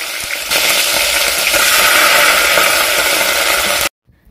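Omena fish fry in a pan with a loud, steady, close sizzle that swells after half a second, holds continuously, then cuts off suddenly near the end.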